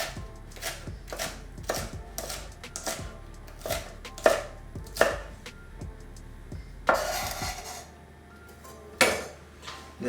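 Green onions are chopped with a knife on a cutting board, about fifteen crisp, sharp knocks in an uneven rhythm, close and clear, with a few louder strikes toward the end and no voices.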